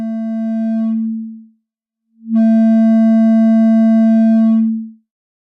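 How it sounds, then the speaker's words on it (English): A pure, steady electronic sine tone from a self-oscillating synthesizer filter in Softube Modular hums loudly, cuts out briefly, then returns and holds for a few seconds before fading away. "The filter produces a sine wave."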